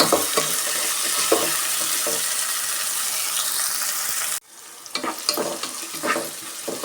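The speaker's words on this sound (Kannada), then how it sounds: "ನೋಡಿ, ಈ ಥರ ಫ್ರೈ ಆಗ್ತಾ ಇದೆ" Chopped tomatoes fry in a pan for a mung bean gravy, giving off a loud, steady sizzle. After a sudden drop the sizzle comes back quieter, broken by scraping stirs.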